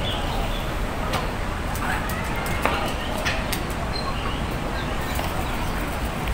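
Birds calling inside an aviary park in Kowloon, Hong Kong: faint, scattered chirps and coos over a steady hiss of background noise, with indistinct human voices nearby.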